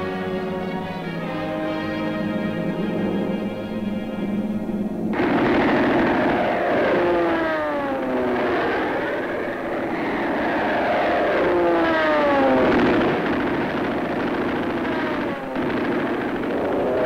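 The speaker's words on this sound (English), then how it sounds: "The planes take off from a little island that only a few weeks before was Japanese." WWII US Navy military planes roar as they take off from a small island airstrip, with a steady engine drone followed by loud, rough, sweeping engine noise as several aircraft pass close by.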